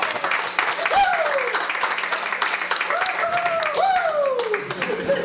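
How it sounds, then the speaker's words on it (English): An audience at a Ridertown event welcomes a returning Rough Rider alum with a burst of loud, continuous clapping mixed with rising whistles and cheers throughout. "Big round of applause."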